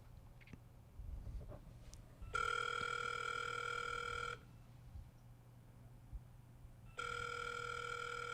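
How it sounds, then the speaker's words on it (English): A telephone ringing on an outgoing call, heard as two loud bursts of a steady electronic ring tone separated by a quiet gap, with faint background noise between. "let me try calling him again"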